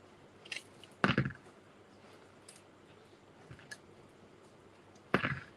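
Scissors snip a sheet of gauze in a few sharp, close cuts separated by long quiet gaps, with faint softer clicks between them.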